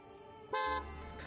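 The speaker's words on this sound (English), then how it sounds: "this button to sound the horn in your car" A Tesla car horn sounds, set off remotely from the mobile app, as one steady blast of about a quarter second, loud and near, then a low hum lingers after.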